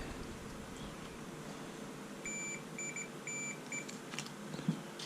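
A continuity tester gives several short, faint electronic beeps in a broken rhythm while checking the wiring on a 1967 Mercury 650 outboard, over a low background hum.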